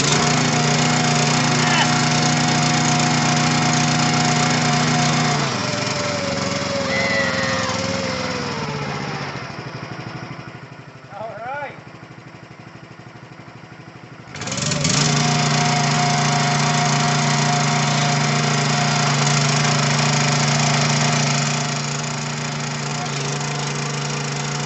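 A log splitter's small engine runs loud and steady after a carburetor cleaning, falls away to near silence midway, then bursts back to life and keeps running strongly.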